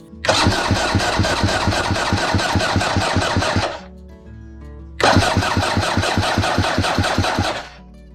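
A 2022 KOVI 300 PRO 2T two-stroke motorcycle cranks on its electric starter in two loud, close bursts of rapid rhythmic turning, each lasting about three seconds, with a short pause between them. The engine never catches.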